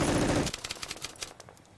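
Machine gun fire in a tabletop wargame battle scene: one dense, loud burst, followed by a string of sharper, spaced shots that fade out.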